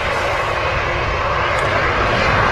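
An Airbus A220 jet at Manchester Airport roars loudly and steadily as its engines spool up, a dense broadband rumble with no pauses.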